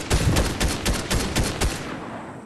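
Rapid bursts of gunfire from the video game Fortnite crackle loud and close for about two seconds, a string of sharp repeated shots in quick rhythm before trailing off.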